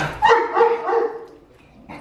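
A dog lets out a single short bark that trails into a brief whine, close and fairly loud in an indoor home setting, followed by quiet.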